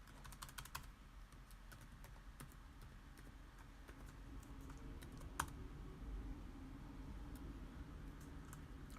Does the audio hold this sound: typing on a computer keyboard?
yes